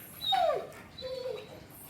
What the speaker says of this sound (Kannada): ಸೊ ಇವಾಗ ಸೌಂಡ್ ಮಾಡ್ತಿರೋದು ನಮ್ಮ ಮನೆಯ ನಾಯಿ